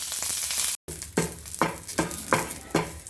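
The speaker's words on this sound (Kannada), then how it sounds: "ಈಗ ಕೊನೆಗೆ ಸ್ವಲ್ಪ ಎಣ್ಣೆ ಹಾಕಿಬಿಟ್ಟು ನಾನು ಕರಿಬೇವನ್ನು ಹುರಿದ್ಕೊತಾ ಇದ್ದೀನಿ." Curry leaves fry in a little hot oil for Udupi-style sambar powder, a close crackling sizzle broken by a brief silence, then rhythmic stirring scrapes every half second or so over the ongoing fizz.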